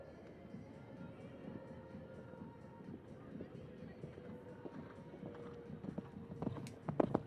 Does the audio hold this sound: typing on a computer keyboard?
no